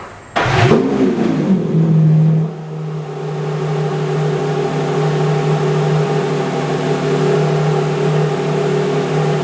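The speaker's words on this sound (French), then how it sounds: "pour vous faire écouter ce que c'est qu'un vrai démarrage digne de ce nom avec un V12 italien" An Italian V12 supercar engine cranks and fires with a sharp loud burst, briefly revs, then settles into a steady, rich idle that holds close and strong to the end.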